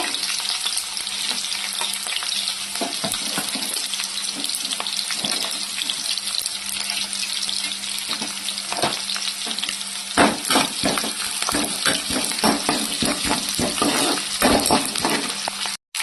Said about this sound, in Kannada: ಟಮಟ ಹಣ್ಣು ಸಾರಿ ಕೊತ್ತಂಬರಿ ಸೊಪ್ಪು ಬೆಳ್ಳುಳ್ಳಿ ಹಾಕಿ ಫ್ರೈ ಮಾಡ್ಕೊಡ್ತಾ ಇದ್ದೀನಿ